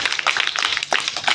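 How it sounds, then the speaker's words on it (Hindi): Children in a classroom clap together for a student, a brief burst of quick, dense, fairly close applause. "इस बच्चे के लिए ताली बजाओ।"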